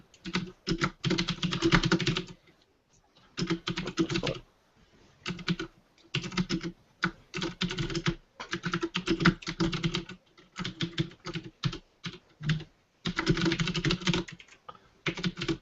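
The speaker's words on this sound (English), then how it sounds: "I have a mechanical keyboard. It's loud." Loud, clattery mechanical keyboard typing in rapid bursts separated by short pauses, close up with no talking.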